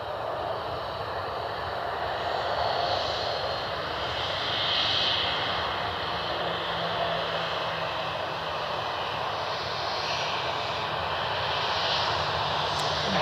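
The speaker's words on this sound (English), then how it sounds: "Southwest 737 taxiing out." A Southwest Boeing 737 jet taxis at Cleveland Hopkins airport with a steady, broad engine roar and whine that swells slightly and stays constant throughout, heard at moderate distance with no talking.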